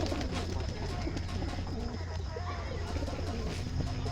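Pigeons at a home loft with birds for sale coo in low, repeated calls beneath steady background noise throughout, with faint chatter or other birds mixed in.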